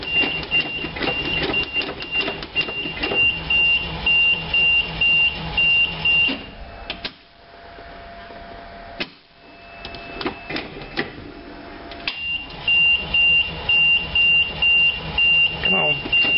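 A 1986 GMC Blue Bird bus with a rebuilt carburetor and mechanical fuel pump cranks on a cold start, its starter churning in rhythmic pulses that pause and resume, while someone talks over it and a steady warning beep sounds.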